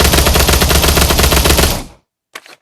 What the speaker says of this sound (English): Full auto. Test number 1. Shooting down low, and let's see where it goes.